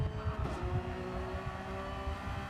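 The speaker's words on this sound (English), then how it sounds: "A downshift through Pouin. Beautiful sounding Porsche. Straight cut gears, of course, on the Porsche as well." Porsche race car with straight cut gears downshifting at Spa-Francorchamps in a racing video game, a fairly faint engine drone with rapid pulsing low blips and a gear whine, heard alone.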